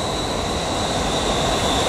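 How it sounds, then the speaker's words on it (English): Train rolling past a seaside pavilion in Mystic, Connecticut, a loud steady rumble with a thin high wheel squeal running through it, continuous and close for the whole stretch. "There's the train again."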